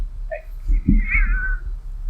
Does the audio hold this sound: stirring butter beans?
no